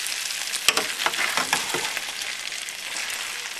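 Fried rice with salmon being stirred in a hot pan over raised heat, a steady close sizzle and fry with a few sharp scraping clicks of the utensil early on, no talking.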